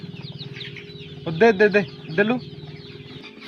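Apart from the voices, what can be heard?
chickens clucking on a desi poultry farm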